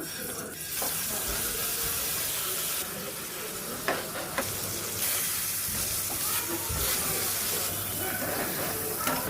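Fish bhuna with tomato cooking in a pan, a steady sizzle and frying hiss with occasional stirring clatter, continuous and moderately close, no talking.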